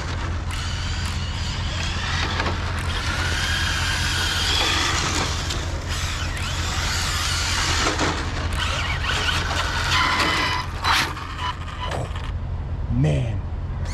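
Arrma Infraction V2 RC car running on its first outing, a continuous whirring electric drive with creaky mechanical rattle, loud and close at times, with brief muffled voices near the end.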